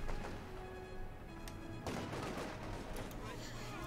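Gunfire from Volksgrenadier infantry in the Company of Heroes 2 strategy game, a dense crackle of rifle shots with a sharp burst near the middle, steady and mid-distance under ongoing battle noise and a commentator's voice.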